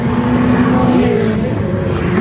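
Race car engines rev hard at a roll racing event in Adelaide, a loud, close, sustained drone with rising and shifting engine tones and no talking.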